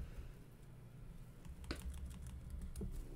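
Quiet, close typing on a computer keyboard: a few scattered key clicks, with a sharper cluster of taps partway through, over a low background hum.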